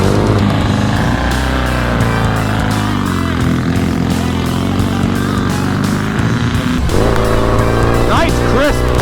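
A British motorcycle on the road, its engine running loud and close with rising and falling revs as the transmission shifts through gears, with wind noise throughout.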